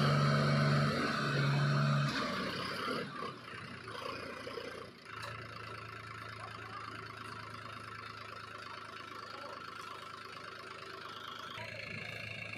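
Several tractors strain and labor to haul a heavy wood-laden trailer, a steady mid-pitched engine drone running continuously at close range with a brief louder burst near the start.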